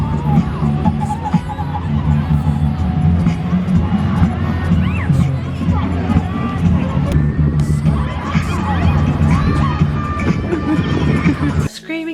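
Festival crowd in a square in French Canada, a dense, loud wash of many voices with shouts and screams rising over a steady low rumble, continuous throughout.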